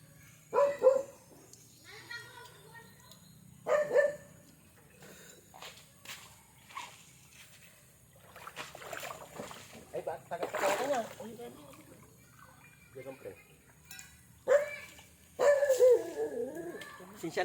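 Several sharp dog barks ring out in bursts, some loud and close, separated by quieter stretches with faint background sounds.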